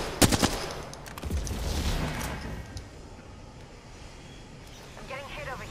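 Apex Legends gunfire opens with a rapid volley of loud, close shots, then thins into scattered bursts and game ambience over the next few seconds.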